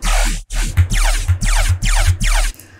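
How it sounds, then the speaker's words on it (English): A phase bass patch built in Serum from a single wavetable, a laser-like dubstep growl hitting in five loud, sweeping bursts with a deep sub underneath and short gaps between, heard alone. "So bass number three is called I'm gonna call it the phase bass."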